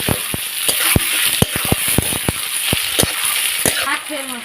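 Onions fry in a pan for a Bengali chapila fish curry, a close hiss of sizzling broken by a string of sharp scraping taps from stirring, with a brief voice near the end.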